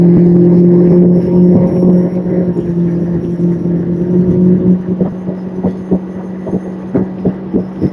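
Boat outboard engine fitted with a four-blade propeller running near 5,000 RPM during bream fishing, a loud steady droning hum that drops into a rougher, throbbing rumble with thumps toward the end.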